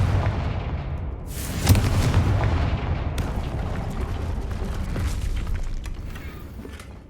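A Confringo fire spell in Hogwarts Legacy bursts with a sharp blast and rumbling boom, followed by crackling debris and fading echoes, with a couple of smaller thuds later.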